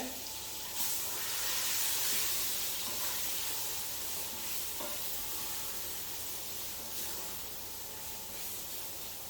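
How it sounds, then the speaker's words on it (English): Leftover stew being stirred in a pot, with a steady soft hiss and light scraping going on throughout at moderate level, with no talk. "Alright, we'll give this a stir."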